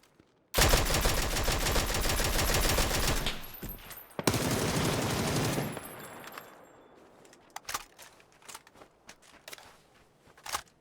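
PUBG gunfire on the Erangel map: dense rapid bursts dominate the first half, then stop; afterward a few sharp isolated shots from a Dragunov sniper rifle crack out against quieter background.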